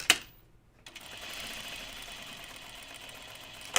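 A sewing machine stitches a top, starting after a brief pause with a steady, close, rapid mechanical whirring hum that runs to the end.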